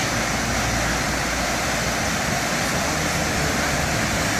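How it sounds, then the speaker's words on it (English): A waterfall in Khao Yai National Park, Thailand, heard up close as a loud, unbroken broadband rush of falling water that holds steady throughout with no voices. "Oh, I'm at this Khao Swat waterfall."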